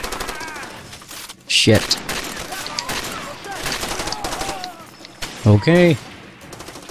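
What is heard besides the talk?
gunfire in video game Far Cry 2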